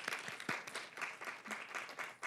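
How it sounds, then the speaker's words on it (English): An audience at an NIH event claps, giving a steady wash of applause from a crowd, heard from a moderate distance and continuing throughout. "so we should clap for that."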